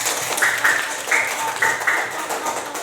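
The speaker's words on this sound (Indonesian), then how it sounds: "tepuk tangan buat kelompok 4" Schoolchildren in a primary classroom clap for a group of classmates, a close, lively burst of hand claps with young voices calling out over it.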